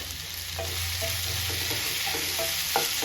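Sliced ivy gourd, lightly salted, stir-fries in a pan with a continuous soft sizzle and repeated scraping stirs, close and fairly quiet, with no talking.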